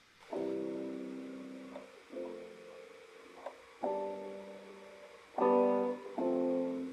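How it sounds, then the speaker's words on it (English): A chord progression in a major key plays as five separate sustained chords. Each one is struck clearly and rings briefly before the next, with no one talking. "A chord progression in a major key sounds like this."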